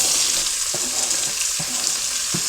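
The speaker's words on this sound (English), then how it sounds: "We're going to cook the onions until they're translucent" Onions cook in bacon grease and butter over medium heat, giving a constant, bright sizzle with a few soft stirring knocks spaced through it, close and alone.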